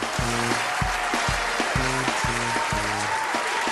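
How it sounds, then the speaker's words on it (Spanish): A television studio audience applauds a guest's entrance, broad clapping running continuously under loud rhythmic music with a pulsing, repeating beat. "Vamos a recibir con un fortísimo aplauso a nuestra compañera y amiga María Gómez."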